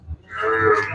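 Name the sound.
buffalo mooing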